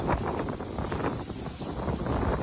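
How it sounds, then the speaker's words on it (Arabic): Steady wind buffets the microphone outdoors at a furniture and carpet shop during a holiday sale, a continuous rumbling roar that fills the whole clip with no clear speech over it. "معلش الهوا بس ايه عاملها معانا"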